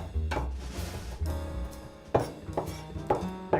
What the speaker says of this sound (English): let's grab 1 clove of garlic, just bash that up